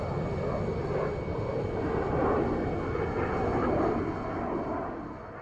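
Military planes fly over a naval ship, making a loud, continuous engine drone that swells slightly and then eases off, with no voices.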